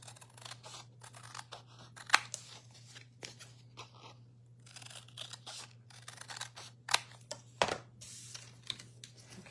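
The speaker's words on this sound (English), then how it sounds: "I'm going to cut this one." Scissors snip through a paper gift tag for a Christmas card booklet, a few sharp, separate crisp cuts spaced apart over a steady low hum, close and fairly quiet, with no talking.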